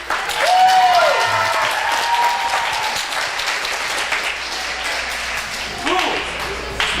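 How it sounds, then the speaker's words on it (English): Audience applause for Ed Jones at the 2022 Brandies awards, a sustained crowd clapping with whistles and cheers mixed with voices, fading slightly toward the end. "Yeah, round of applause right now."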